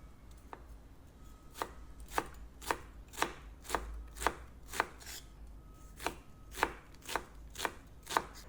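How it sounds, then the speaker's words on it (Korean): An onion being chopped with a knife on a cutting board, about a dozen crisp, evenly spaced chops in a steady rhythm, close and distinct against a quiet room. "화면처럼 양파를 썰어보시면 정말 쉽게 다질 수 있을 겁니다."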